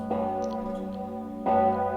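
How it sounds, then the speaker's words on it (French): Two deep church bell strikes, the second starting about a second and a half after the first, each ringing on with a long, sustained hum. "on sonne aussi des cloches"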